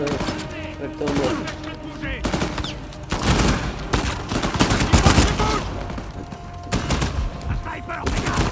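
Dense bursts of gunfire and sniper shots from the video game Uncharted 4, with booms and rapid volleys layered over continuous game noise and music, loud and busy throughout.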